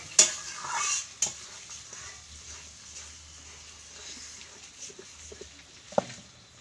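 Masala with sour yogurt being sautéed in a pan for mutter paneer: soft, quiet scraping and stirring over a low sizzle, with a few sharper utensil clinks near the start and a brief knock toward the end.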